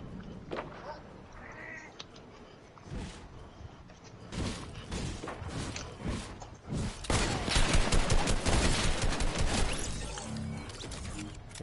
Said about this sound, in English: this is the new shotgun lever action